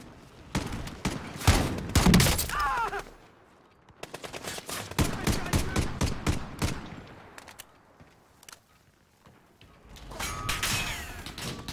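Gunfire in Modern Warfare, several loud automatic bursts and single shots in separate clusters with quieter gaps between, plus mechanical clicks and a whoosh near the end.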